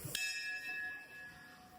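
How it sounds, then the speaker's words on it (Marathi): A single bright strike of a hand bell at Birdev temple, Pattankadoli, that rings on with a long, slowly fading shimmer, heard alone at close range. "घंटी वाजव, घंटी वाजव,"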